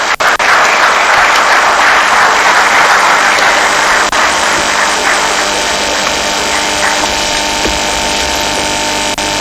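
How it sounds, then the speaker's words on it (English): Sustained applause from a large audience at an award ceremony and lecture, a dense steady clatter of clapping that fills the whole stretch at high level without letting up. "our tireless Director General deserves a more resounding round of applause"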